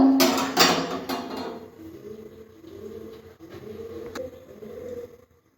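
A metal wok (karai) is set down on a lit gas stove in a home kitchen before cooking, giving a close, bright metallic clatter at first, followed by a few quieter knocks and scrapes.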